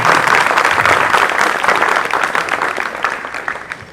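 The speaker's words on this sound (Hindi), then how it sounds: "जितनी हो उतनी तालियां बजाएं" An audience claps vigorously in honour of mothers at a Mother's Day poetry recital, a dense, loud burst of applause that tapers slightly toward the end.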